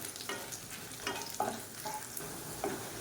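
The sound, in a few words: tamarind, garlic and red chillies roasting in oil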